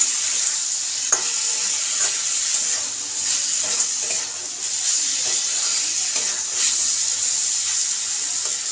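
Spiced lemon chicken fries with a loud, steady sizzle in a pan while a utensil stirs it, giving a series of scraping knocks roughly once a second; no one speaks.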